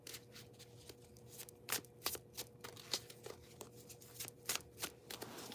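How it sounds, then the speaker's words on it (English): A deck of tarot cards is shuffled by hand, a quiet run of irregular papery flicks and soft slaps close by, with no talking. "we'll just do a quick shuffle"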